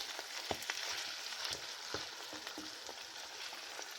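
Deer meat searing and frying in a pan for chili, a steady close crackling sizzle with scattered sharp pops and occasional stirring scrapes throughout, no voices.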